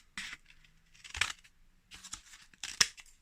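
Scissors snipping through brown cardboard tubes to halve them for seed pots, giving three or four short dry cuts and crunches with brief pauses between, close by and fairly quiet.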